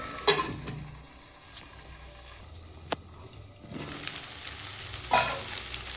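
Flat beans and potatoes fry in a pan as a spatula stirs them, with a few sharp scrapes and knocks against the metal over a low continuous sizzle. No one speaks.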